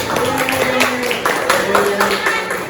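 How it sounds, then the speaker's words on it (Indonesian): Classroom group clapping after a student presentation, a few seconds of moderately loud clapping while voices talk over it. "boleh kasih tepuk tangan"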